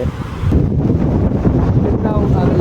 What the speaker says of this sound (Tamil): செம்மையாக அடிக்குது காற்று